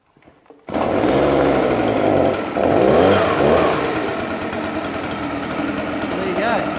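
A Stihl BG86C leaf blower's two-stroke engine fires on the first pull and settles into a loud, close, steady buzzing idle with slight revving, with people talking over it.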